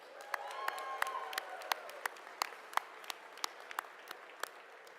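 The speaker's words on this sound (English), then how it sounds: "Please join me in giving them all a well-deserved round of applause." An audience at an inaugural ball procession applauds steadily, with scattered sharp claps standing out over a dense wash of clapping and faint crowd murmur.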